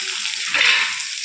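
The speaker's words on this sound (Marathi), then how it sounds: "आता कांदा छान आपल्याला गुलाबी कलर येईपर्यंत परतून घ्यायचा आहे" Finely chopped onion sautés in hot oil in a pan with mustard seeds, cumin, garlic, chilli and curry leaves, a short close sizzle that swells briefly in the middle, with no talk.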